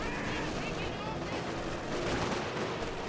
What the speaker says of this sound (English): Katusha barrage onto the big blob of infantry